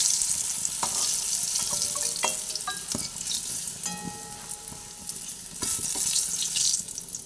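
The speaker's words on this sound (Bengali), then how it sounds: "এরপরে আলুটা দুটো দিকে কিছুটা করে ভেজে নিলাম" Potatoes fry in oil in a wok-like kadai with a steady, moderate sizzle. Occasional sharp clinks and scrapes from turning the pieces cut through it.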